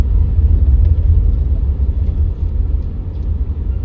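A car drives across the Vashi bridge in heavy Mumbai traffic, with a constant deep road rumble and engine drone filling the cabin and no one speaking.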